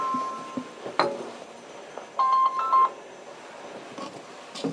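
Phone keypad tones sound as a ringing phone is silenced near an old church pipe organ: a few short beeps, then a cluster of brief two-tone bursts, with light clinks between them.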